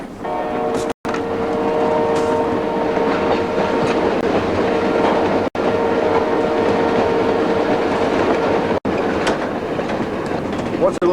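Passenger train on the rail line north toward Churchill in wintry Canada, a steady rumbling roll with faint clickety-clack from the wheels and a sustained tonal hum, continuous from onboard with brief cuts.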